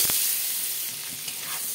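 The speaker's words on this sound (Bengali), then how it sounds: "আলুটাকে ভেজে নেব।" Potatoes frying in hot mustard oil with a little turmeric in a heated wok: a steady, dense, close sizzle running evenly throughout with no talking.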